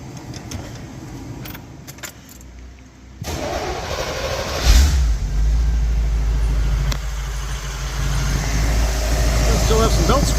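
A car engine cranks and fires up at close range after an exhaust manifold gasket repair, then settles into a steady, loud idle following a few seconds of clinking keys and handling noise.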